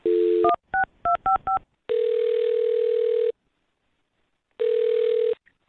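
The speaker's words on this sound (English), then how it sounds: "I'm going to dial her phone number right now." A phone number is dialed by keypad, a steady dial tone followed by a quick run of short dual-pitched DTMF beeps, then two long ringback tones separated by silence, clear and close.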